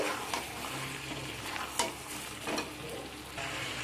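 Ground cumin and turmeric sizzle steadily in a hot pan while being stir-fried, a close, continuous crackling hiss broken by occasional scraping stirs.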